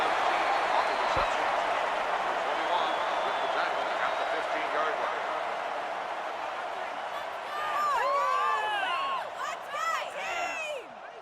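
A football stadium crowd at an Alabama Crimson Tide vs Florida State Seminoles college game roars in a continuous wash of cheering, with shrill whistles and whoops rising toward the end and a voice talking over it.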